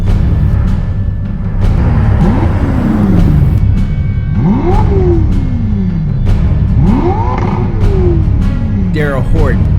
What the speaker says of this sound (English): This is the latest model of the Ferrari Portofino M convertible.